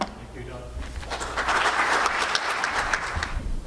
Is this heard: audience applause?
yes